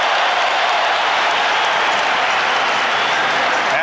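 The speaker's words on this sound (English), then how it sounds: "Will Perdue hears it from the crowd." A basketball arena crowd at the 1991 NBA Finals between the Lakers and Bulls roars and applauds in a loud, continuous wash of noise with no break.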